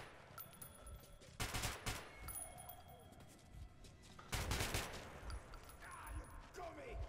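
Two loud bursts of gunfire from Metro Last Light Redux, separated by a few seconds of quieter game ambience, with a voice speaking over the action.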